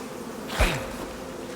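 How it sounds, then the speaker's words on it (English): Brief buzz of bees in the survival game Icarus, a single short swell of insect droning that rises and fades against a steady low game ambience. "I think we killed the bees."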